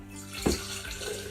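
Water kefir poured from a vessel into a clean glass jar on a kitchen bench, a short close splashing gush over a steady trickle of running liquid.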